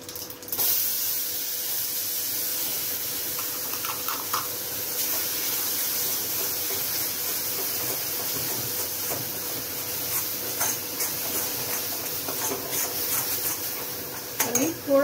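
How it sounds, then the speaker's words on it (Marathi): Ground uttapam batter mixture poured into a hot pan, giving a steady sizzling hiss that runs through the whole stretch with a few soft utensil clinks, fairly close, and a brief louder clatter near the end. "आणि ते जे वाटलेलं मिश्रण आहे ते आपण याच्यात टाकू"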